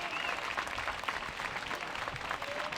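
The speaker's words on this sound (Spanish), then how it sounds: "recibimos con un fuerte aplauso" A crowd at a Vox European election rally in Catalonia applauds a candidate, a fairly faint, even wash of clapping lasting a few seconds without pause.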